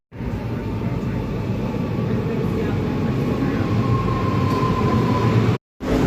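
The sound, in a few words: Frankfurt S-Bahn train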